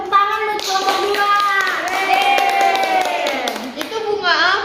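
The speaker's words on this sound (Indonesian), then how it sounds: "Beri tepuk tangan buat kelompok 2." Classroom clapping for a group of fourth-grade students, mixed with children's voices talking and calling out over the claps for the whole stretch.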